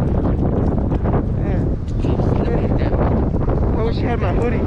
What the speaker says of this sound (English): man, it is windy as hell